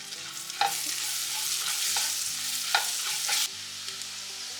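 Chopped garlic and green chili fry in hot oil with cumin for a potato butter masala, a steady close sizzle broken by occasional scrapes of a spoon stirring the pan, with no voices.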